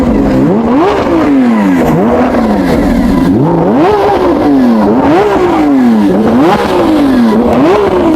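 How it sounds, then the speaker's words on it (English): A Lamborghini Aventador SVJ V12 engine revs repeatedly, each blip rising to a howl then dropping, a loud rhythmic series of throttle bursts up close. "Let's have some revs."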